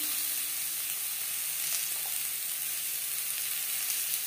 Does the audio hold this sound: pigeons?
no